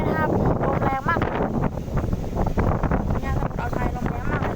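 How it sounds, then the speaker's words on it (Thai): Strong wind on the Gulf of Thailand coast buffets the microphone in loud, continuous gusts and rumbles while someone talks over it. "ตอนนี้สมุทรอ่าวไทยนะครับลมแรงมาก"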